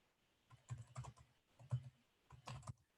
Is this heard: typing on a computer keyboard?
yes